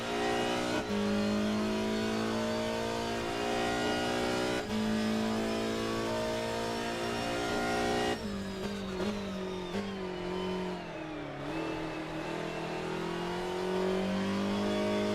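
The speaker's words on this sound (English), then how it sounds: "On board with Tommy Teasdale in the number 8 BMW 320i STW" Onboard engine of the number 8 BMW 320i STW touring car in a racing game at Okayama: a loud, continuous engine note that rises through the revs, drops sharply at each upshift, and stutters through downshifts under braking, with no talking.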